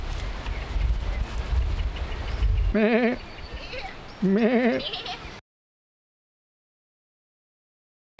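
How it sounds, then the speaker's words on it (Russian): Two wavering sheep bleats ring out close by over a windy outdoor background in southern France, then the sound cuts to silence. "Подожди, это вообще овцы. Такой звук издают."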